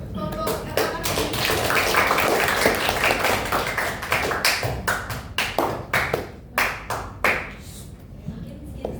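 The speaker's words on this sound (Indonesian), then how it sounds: "Tepuk tangan buat kelompok anak-anak ini." An audience claps for a group of children, steady applause that thins out into separate, distinct hand claps near the end, with no voices over it.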